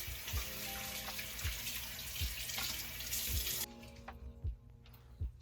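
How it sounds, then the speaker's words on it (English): Tap water runs steadily into a sink as cleanser is rinsed off a face, with small splashes and drips from hands in the stream; it cuts off partway and then trickles on more quietly, with no talk. "Let me wash this off real quick."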